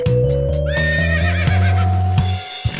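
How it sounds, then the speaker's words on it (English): A horse whinnies in a bright, wavering neigh over a steady musical backing, sounding close and loud, with faint hoof clip-clops in the background. "It's a horse."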